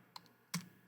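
Keys tapped on a computer keyboard: three soft, close clicks in under a second, with a slightly louder middle press and no voices.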